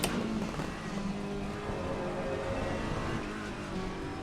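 Racing car engine in a video game during a wet race setup test, a steady, loud broadband drone holding throughout with faint shifting tonal whine and no clear gear changes.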